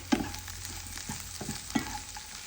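Spinach and potato fry being stirred in a pan over a low flame: soft scraping strokes and a few louder spoon knocks against the pan over a faint, steady sizzle, no voices.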